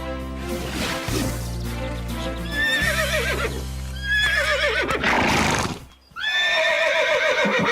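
A horse whinnies loudly several times, high shrill calls rising and falling over a low steady hum, with a brief pause before a final neigh.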